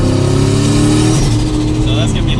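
A 1,000 HP turbocharged Ford Mustang GT engine drones loud and close from inside the car with the window down, its low rumble steady with a rising rev, while someone talks over it.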